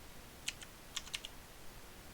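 Soft typing on a computer keyboard: a few light, quiet key clicks in an uneven rhythm, heard alone at close range.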